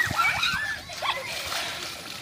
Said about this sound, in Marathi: इकडे बघा पाण्यात मस्ती झाली पोरांची.